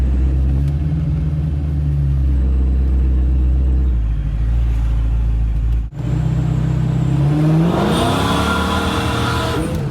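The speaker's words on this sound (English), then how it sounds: "So about a half throttle pull there just to test things out" A supercharged automatic Ford Mustang Foxbody idles with a deep, loud rumble, then pulls at half throttle, engine note climbing steadily with rising supercharger whine, recorded close with no talking.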